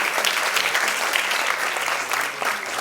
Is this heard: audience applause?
yes